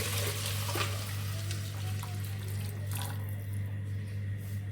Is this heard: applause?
no